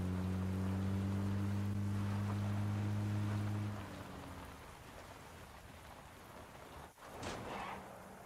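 Steady rain falls outside as a soft, continuous hiss, with an air-conditioner hum droning beneath it for the first half before it drops away.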